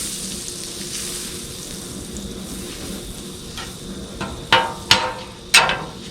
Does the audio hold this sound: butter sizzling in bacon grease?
yes